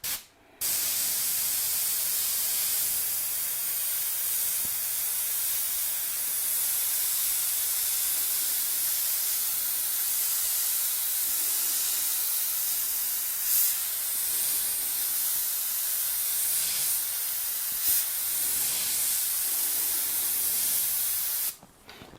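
Cheap out-of-the-box airbrush spraying paint onto a fender, a steady loud hiss of air and atomized paint that runs almost unbroken for about twenty seconds, with a few brief surges.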